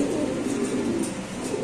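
White Bombay pigeons coo at a pigeon farm, a soft, low, throaty rolling coo repeating steadily at close range with no talk over it.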